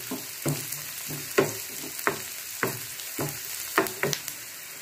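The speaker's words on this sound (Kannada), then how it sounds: "ನಾವು ಇದನ್ನು ಫ್ರೈ ಮಾಡಬೇಕಾದ್ರೆ ಉರಿ ಸ್ವಲ್ಪ ಜೋರಾಗಿ ಇಟ್ಕೊಳ್ಳಿ." Gobi Manchurian, battered cauliflower, frying in a pan on a high flame, a steady close sizzle of hot oil broken by regular clinks and scrapes of a spoon stirring every half second or so.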